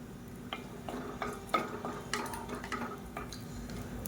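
Cinnamon, cloves and cardamom fry in hot oil in a pot for kuska rice, giving a faint, soft crackle with scattered light clicks and taps from stirring.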